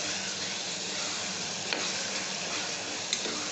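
Ginger garlic paste frying with tomato in a pan for tomato rice, giving a steady close sizzle and hiss with a couple of faint clicks of stirring, no voice over it.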